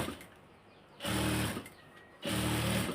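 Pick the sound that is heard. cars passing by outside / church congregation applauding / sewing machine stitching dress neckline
sewing machine stitching dress neckline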